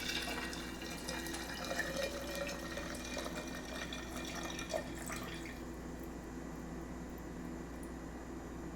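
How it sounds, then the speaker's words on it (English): Vodka is poured from a bottle over spices in a jar, a close, steady liquid trickle and splash that fades off about halfway through, leaving quiet room tone. "we're going to take our bottle of vodka and just pour it over those spices"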